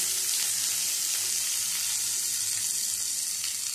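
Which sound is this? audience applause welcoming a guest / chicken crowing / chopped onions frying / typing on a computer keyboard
chopped onions frying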